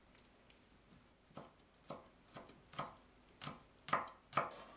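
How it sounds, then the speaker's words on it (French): Knife chopping two garlic cloves on a board: a series of sharp, close taps in an irregular rhythm, growing louder and quicker toward the end, with no talking. "Je hache 2 gousses d'ail."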